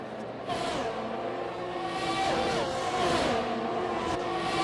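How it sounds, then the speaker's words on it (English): Race cars in a sim racing league event roar past in a close pack, engines droning and shifting pitch as they overlap and fade, steady and continuous. "Can't take your eyes off of one car because you missed the other 2 going by."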